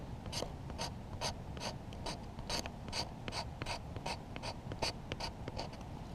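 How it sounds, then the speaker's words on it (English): A knife blade is drawn straight down a piece of wood to raise fine tinder shavings, giving about twenty crisp, rhythmic scrapes in quick succession, close and clear over light outdoor background noise. "create really fine shavings by taking your blade edge, going straight down, creating a 90-degree angle on either side, and just scraping it down"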